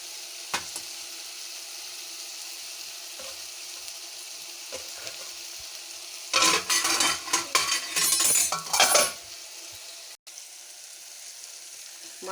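Eggplant and mango pieces fry in a pan, a steady low sizzle running throughout and swelling into louder bursts of stirring and crackle for a few seconds near the end, with no talk.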